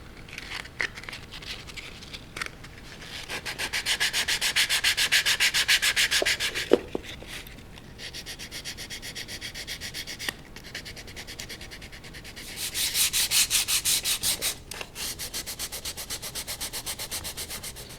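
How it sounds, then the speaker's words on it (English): Someone hand-sands the edges of a vintage letter punch set case with 150 grit sandpaper, close-up, in rhythmic rubbing strokes that build into two longer, louder scrubbing bursts separated by lighter passes and brief pauses, with no talking. "I'm going to sand these edges and the rest of it by hand"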